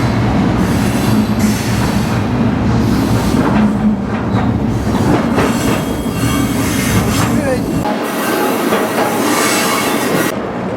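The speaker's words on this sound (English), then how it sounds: "the train is approaching the junction in Spokane" Freight train rolling on rails near a junction in Spokane, a loud continuous rumble with rhythmic wheel clatter and squeal, heard close up from aboard.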